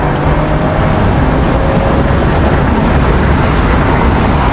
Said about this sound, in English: God, I love the way this 440i just takes off.